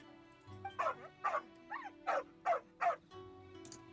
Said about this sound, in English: Oh, alright, there's a good dog.